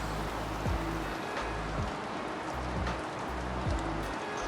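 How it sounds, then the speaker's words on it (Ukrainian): Steady rain patters and drips on a surface, with heavier drops landing irregularly close by. "У нас пішов дощ."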